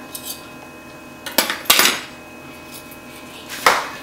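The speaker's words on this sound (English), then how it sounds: "When you're loading the dishwasher, you have to put the heads up." Metal cutlery clinks and clatters in a few separate bursts, silverware dropped heads-up into a dishwasher rack one after another, close by.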